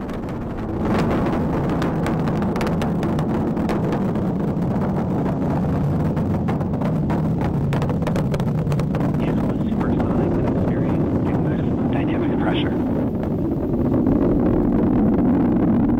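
Rocket engines roar during a launch through max Q, a dense continuous rumble buffeted by wind noise, swelling slightly louder near the end as the engines return to full power.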